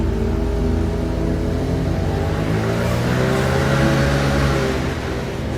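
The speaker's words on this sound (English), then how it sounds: "allow any internal combustion engine to run mostly on water" An internal combustion engine modified to run mostly on water hums steadily and loudly nearby, with a smooth rising pitch and no pauses.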